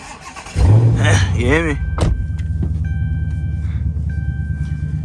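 A tuned 5.7 Hemi car engine bursts into a loud rev after a quiet start, then settles into a rough, throbbing idle, heard from inside the car at night while someone speaks briefly over it.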